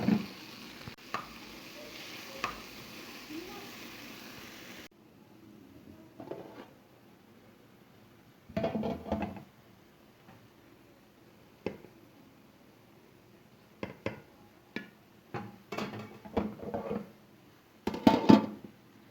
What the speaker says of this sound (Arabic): بعد ما تقلت عندنا الفلفل والبصل راح نضيف الطماطم